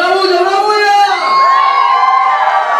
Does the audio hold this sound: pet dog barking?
no